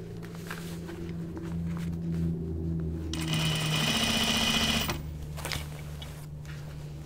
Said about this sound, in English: I'm going to edge stitch it down